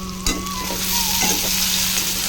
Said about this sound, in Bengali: আর এদিকে দেখো আমার কচিলতিটা অনেকটা ভাজা হয়ে গেছে বন্ধুরা